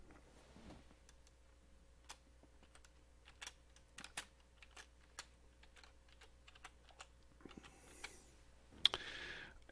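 Keys clack on a computer keyboard as text is typed, a quiet, uneven run of separate taps spread over the stretch, close by, with no talking.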